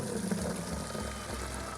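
Maple sap is poured from a collection bucket outdoors, giving a steady, close splashing stream of liquid that continues evenly without voices.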